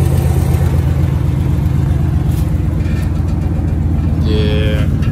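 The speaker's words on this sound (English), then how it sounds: "Sound like you got a little exhaust leak, though." A Dodge Ram 1500 pickup truck idling with an exhaust leak, a steady loud low rumble filling the whole span up close, with a brief higher tone near the end.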